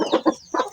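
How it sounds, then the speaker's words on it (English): Chickens cluck inside a coop in a few short, close, separate bursts. "I have some chickens inside here."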